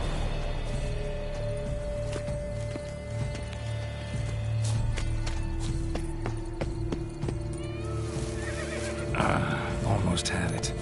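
Horse in The Witcher 3 whinnying and neighing amid clip-clop hooves and game ambience, with someone talking over it throughout.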